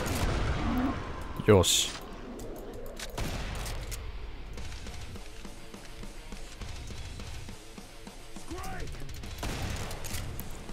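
Shotgun blasts and rapid gunfire in the game Killing Floor 2, with a loud burst near the start followed by a stretch of dense crackling fire and mechanical clatter, while a player speaks briefly over it.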